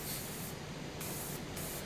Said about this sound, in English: So just spraying the entire thing with Gundam Marker